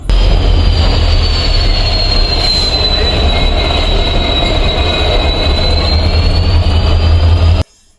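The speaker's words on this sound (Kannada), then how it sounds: "ಈಗಷ್ಟೇ ಒಂದು ಟ್ರೈನ್ ಮೂವ್ ಆಗ್ತಾ ಇದೆ." A train rolls through Badami railway station with a loud, sustained wheel squeal over a low rumble, close by and steady for about seven seconds before it cuts off abruptly.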